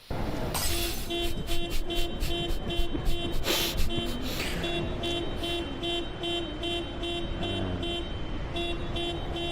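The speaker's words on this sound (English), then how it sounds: "wherever I threw that glass bottle, it would play the car sound from the glass bottle, no matter where I threw it" A video game car-alarm sound plays in place of a thrown glass bottle, with a steady pulsing run of electronic honks and beeps, loud and continuous, and a brief glassy crash near the start.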